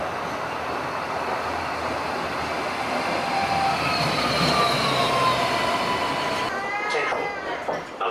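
A Sydney light rail tram pulls into a stop, its steady rolling rumble joined by rising metallic wheel squeals and whining tones before a sudden quieter moment near the end.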